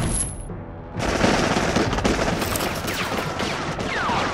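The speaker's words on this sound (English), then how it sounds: "Open fire!" Sustained rapid gunfire from a sound effect in a stop-motion figure animation, a dense loud burst that starts after a short quieter lead-in and keeps rattling steadily to the end.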